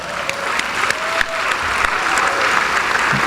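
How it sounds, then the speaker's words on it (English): Sustained audience applause at a corporate awards ceremony in Asia, a dense steady wash of many hands clapping that fills the room, with faint voices mixed in. "Ladies and gentlemen, please give them a round of applause."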